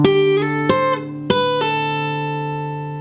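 Acoustic guitar playing a short fingerpicked phrase from a song, a few plucked notes with sharp attacks ringing out and slowly decaying, close and clear, with no voice.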